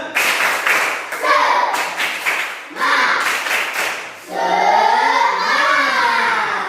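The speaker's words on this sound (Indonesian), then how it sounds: "Tepuk semangat" A class of schoolchildren performs a rhythmic spirit clap led by their teacher, several bursts of patterned group clapping separated by short pauses, followed by children chanting or shouting together.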